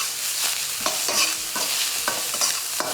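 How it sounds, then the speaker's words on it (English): Pickled vegetables, such as mustard greens, capers or gherkins, stir-fry with prawns in a hot wok, a bright continuous sizzle with repeated quick tossing scrapes, close and alone without voices. "Now I'm cooking my pickled vegetables and my prawns quite close to the start of my wok clock"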